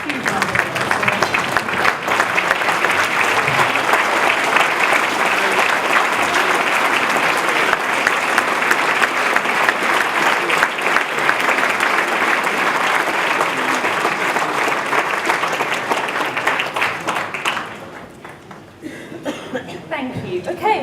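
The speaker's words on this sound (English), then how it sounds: "I really think they deserve a huge round of applause." A large dinner audience at the 2019 Muslim News Awards for Excellence gives the volunteers sustained, loud, dense applause for about seventeen seconds before it tapers off into scattered claps.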